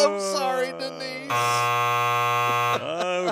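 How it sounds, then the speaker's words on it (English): A game show wrong-answer buzzer sounds once, a loud steady harsh tone held for about a second and a half between stretches of talk. "Hit the buzzer."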